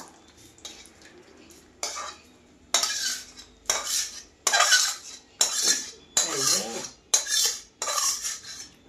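Chicken cooked in pipa paste is moved into a pot, with close, repeated clinks and scrapes of metal utensils against the pot in rhythmic bursts.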